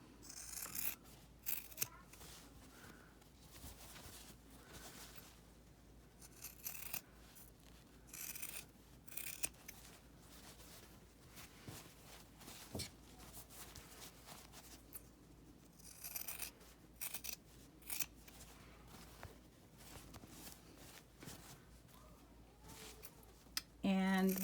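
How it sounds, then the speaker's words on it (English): Scissors trim a fabric seam allowance to about an eighth of an inch, making quiet, close snips and scrapes in short irregular bursts. "And then I will trim the seam allowance to 1/8 of an inch approximately."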